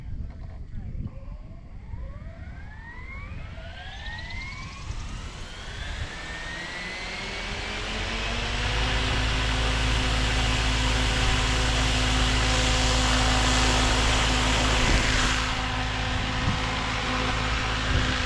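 The rotor of an XLPower Specter 700 RC helicopter on 6S power whines as it spins up through a rising sweep of tones, then settles into a loud, steady high-pitched whir.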